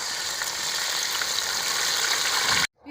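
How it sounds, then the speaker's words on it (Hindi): Soaked semolina hits caramelized golden-brown sugar in a pan over low flame, giving a loud, steady sizzle that runs continuously for a couple of seconds before cutting off abruptly into near silence. "अब हम फ्लेम को बिल्कुल लो कर देंगे और इसमें हम भिगोई हुई सूजी जो है वो ऐड करेंगे।"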